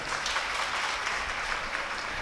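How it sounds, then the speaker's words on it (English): An audience applauding in a lecture or teaching session, a short burst of steady, moderately loud clapping with no voices over it. "But to you, definitely you need an applause."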